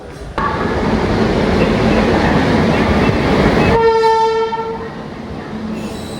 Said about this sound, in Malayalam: കോയമ്പത്തൂരിൽ നിന്ന് കണ്ണൂരേക്ക് വന്ന എക്സ്പ്രസ് ആണേ, കോയമ്പത്തൂർ കണ്ണൂർ എക്സ്പ്രസ്